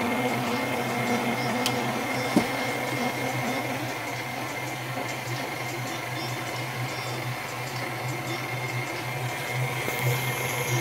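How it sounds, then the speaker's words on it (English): A stand mixer kneads bread dough in a steady, continuous motor whir with a low hum. It runs evenly and fairly loud, close by, with one small knock partway through. "This mixer doing everything. Knead the bread."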